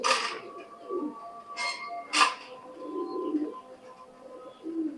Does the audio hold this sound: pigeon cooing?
yes